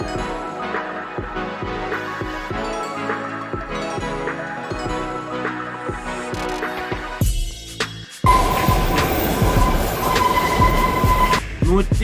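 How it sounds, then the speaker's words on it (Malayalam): The Kalka-Shimla narrow-gauge toy train, line commissioned in 1903, climbs slowly through the Himalayan hills toward Shimla, its wheels clicking rhythmically over rail joints before a sudden louder, roaring rumble with squealing takes over near the end. "ട്രെയിൻ പതുക്കെ ഹിമാലയൻ കുന്നിന് മുകളിലുള്ള ഷിംലയിലേക്ക് സഞ്ചരിച്ചു കൊണ്ടേയിരിക്കുകയാണ്."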